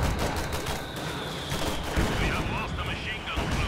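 Machine gun fire crackles on the battlefield of the real-time strategy game Company of Heroes 2, a dense, continuous rattle of bursts mixed with other combat noise and explosions.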